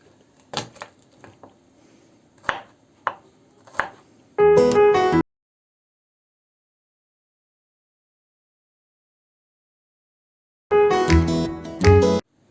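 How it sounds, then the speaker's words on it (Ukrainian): Quick knife chops on a cutting board as garlic is cut, a few sharp separate strikes, then two bursts of rapid chopping separated by silence. "нарізаємо чесник"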